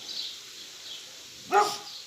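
Dogs in the Brawl Stars video game let out a short burst of barking near the end, over a faint steady hum of game sound.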